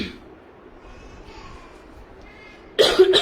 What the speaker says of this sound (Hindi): इसीलिए मैं कहूँ मुझे खांसी क्यों आ रही है बार बार